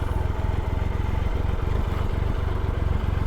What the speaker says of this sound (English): I'm just going to park my bike here